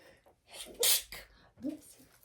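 A single loud sneeze with a sharp intake of breath before it and a short exhale afterward, close to the listener.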